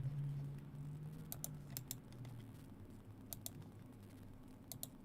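Typing on a computer keyboard into a chat, faint scattered key clicks in small clusters with brief pauses, quiet under a low background hum, with no talking.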